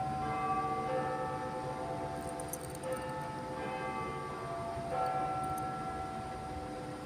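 A large clock bell, Big Ben in London, rings with sustained, resonant strikes that hang over steady city traffic hum, heard from some distance with no talk.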